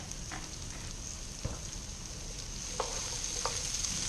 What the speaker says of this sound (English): Keep stirring that around